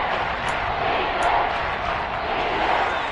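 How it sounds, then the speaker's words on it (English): Continuous roar of a large football stadium crowd at a Denver versus Seattle game, a steady broad wash of noise that swells slightly, with distant whistles or shouts poking through. "Crowd getting in it a bit already"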